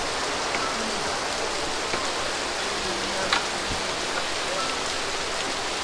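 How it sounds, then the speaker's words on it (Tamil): Heavy rain falls at night in Pondicherry, a steady, dense hiss of pouring rain that stays constant and even throughout, with no speech over it. "செம்ம மழை பெய்யுது கைஸ்."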